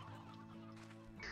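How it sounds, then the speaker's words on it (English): A briar chick in the Slime Rancher 2 video game gives a quick burst of clucking honks, fairly close and clear, over a steady synthetic game music bed, with a louder squawk toward the end. "It's a briar chick this time!"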